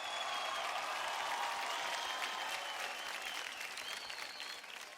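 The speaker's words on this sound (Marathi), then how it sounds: "जोरदार टाळ्या होऊन जाऊ द्या या तिघांसाठी." A studio audience on a Marathi TV dance show applauds in a sustained, even wash of many hands clapping, which tapers slightly toward the end and is heard at a modest distance.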